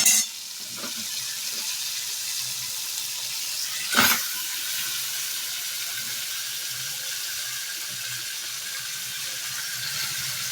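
Boiled taro greens are stirred in a hot pan, a steady close hiss of cooking with one clear scrape of a spoon partway through and a few faint knocks.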